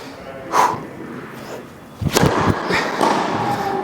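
Tennis ball struck with a Wilson Shift racket on a power serve: a sharp whoosh and thud early, then a louder crack of impact followed by bouncing and court noise.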